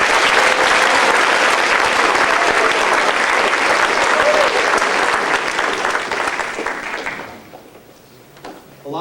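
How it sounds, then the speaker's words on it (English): Loud audience applause at a high school band spring concert, a dense roar of clapping from a large crowd that holds steady, then thins and fades out near the end. "So if you would please give them a round of applause."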